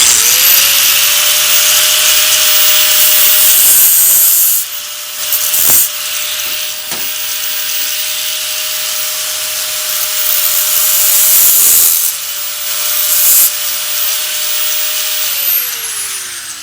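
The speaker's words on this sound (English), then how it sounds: "It's real simple to just take your cutoff wheel and just carefully put a mark right where your lines go." A cutoff wheel scores marking lines into sheet metal while fabricating a tail panel to trunk floor on a 1970 Dodge Challenger; a loud, steady high-pitched grinding whine runs nearly the whole time with a few brief pauses as the wheel lifts off.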